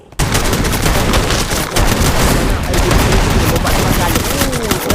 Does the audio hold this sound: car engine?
no